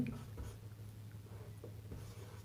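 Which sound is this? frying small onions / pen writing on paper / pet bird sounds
pen writing on paper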